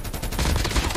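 Rapid gunfire from an M4 rifle in a mobile shooter game, a dense, continuous stream of loud close shots filling the whole moment.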